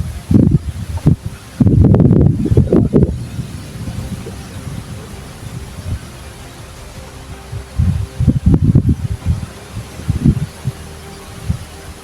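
Gusts of strong wind buffet the microphone in loud rumbling bursts, easing between gusts with a steady outdoor hiss underneath.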